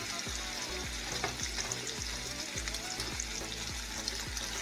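A chuck pot roast sears in a hot skillet with loud, steady sizzling and crackling fat, broken by a regular series of low thumps as the pan shifts, with no talking over it.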